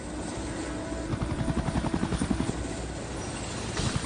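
Rescue helicopter over a grey open sea, its rotor thudding in a steady pulsing beat under a loud broad engine roar that swells and recedes.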